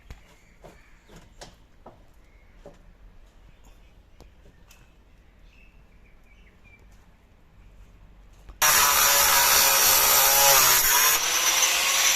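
A power tool cuts through an old metal clamp on a hen house, a loud, harsh continuous grinding roar that bursts in abruptly after several seconds of quiet clicks and handling noises.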